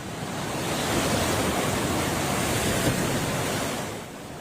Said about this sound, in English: running away from the splashing waves, that's what you're not supposed to do right now